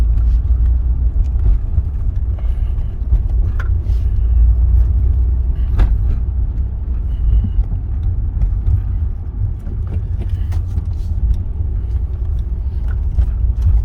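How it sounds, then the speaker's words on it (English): A 1992 Renault Alpine GTA V6 Turbo idles with a steady, loud low rumble while its turbo cools down, the engine drone continuous and close with a few faint clicks over it. "The turbo cooling down, so that's nice."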